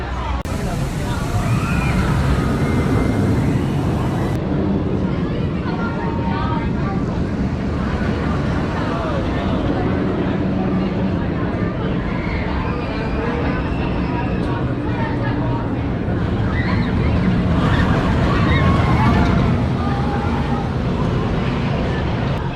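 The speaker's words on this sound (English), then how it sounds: "Old Mill boat ride." Loud, continuous rumbling and wind noise with sloshing water and a babble of voices in the background, on the Old Mill boat ride at Kennywood amusement park.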